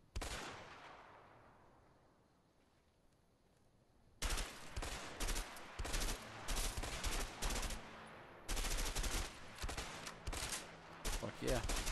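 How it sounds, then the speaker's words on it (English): M16 burst-fire assault rifle in A Way Out, a shot ringing out and decaying, then after a pause two long stretches of loud rapid repeated bursts, with voices of players talking. "M16, burst fire assault rifle."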